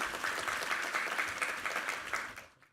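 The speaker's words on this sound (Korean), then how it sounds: "우리 하나님께 감사와 영광의 박수 올려드리겠습니다." A church congregation gives steady, dense applause that holds at an even level, then quickly dies away at the end; no voices are heard.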